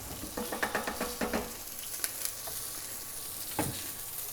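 Risotto with browning butter sizzles in a very hot pan. Rhythmic stirring scrapes over a steady sizzle give way to continuous frying, with a sharp clink toward the end.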